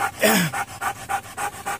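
A narcotics detection dog pants close by in quick, rhythmic breaths, about seven bursts after a short opening whine.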